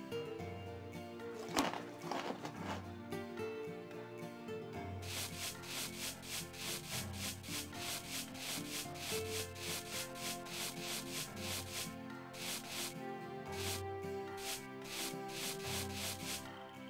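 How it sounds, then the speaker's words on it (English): Baby horse's mane and tail being brushed in Barbie Horse Adventures, heard as steady rhythmic rubbing strokes that run on for many seconds after a brief opening knock, close and even, without speech. "To brush the baby horse, click the brush on the shelf and move it over her mane and tail."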